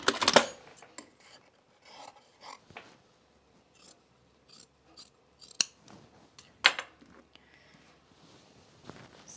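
Scissors trimming fabric for a bomber jacket: close, crisp snips and rasping cuts in irregular bursts separated by short quiet gaps, with light rubbing of cloth in between.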